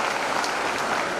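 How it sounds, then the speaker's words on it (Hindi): A crowd claps to welcome sanitation workers at a municipal honour ceremony in Udaipur, dense continuous applause, loud and close, with no speech over it. "तालियां बजाकर स्वागत करो इनका।"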